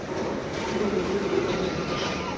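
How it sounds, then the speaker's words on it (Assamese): A continuous rumble of a moving train, with a steady rolling roar of wheels on rails and faint rhythmic clatter, close and fairly loud. "আপোনালোকে ট্ৰেইনৰ চকা ঘূৰা দেখা নাই"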